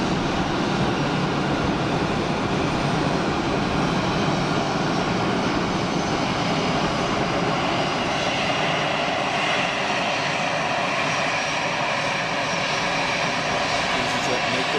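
An EasyJet airliner on the runway at Geneva Airport, a loud, steady, broadband jet engine roar that continues unbroken throughout.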